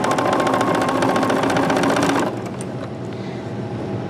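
Sewing machine with a dual feed foot stitching a quilt throw: a fast, loud, steady whirring run that stops abruptly, leaving a quieter hum.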